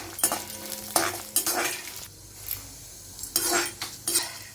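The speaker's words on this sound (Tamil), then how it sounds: "இப்போ இந்த அவரைக்காயை எண்ணெயில் போட்டு வதக்கின்னு விடலாம்" Broad beans sautéing in hot oil with urad dal and chilli powder, stirred in a pan: bursts of scraping and sizzle come in uneven waves with quieter gaps between, close and moderately loud, with no talk.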